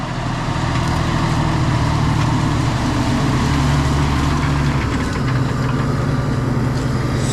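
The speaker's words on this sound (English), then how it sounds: "We got a new tractor on the field" A large diesel engine of a new Fendt tractor drones steadily and loudly in a farm field, with a constant low rumble and no pauses, heard from close by outdoors.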